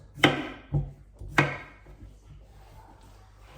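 Knife slicing a sweet potato into rounds on a cutting board for healthy cooking: a few sharp, separate chops, two louder strokes and softer ones between, close and alone with no talk.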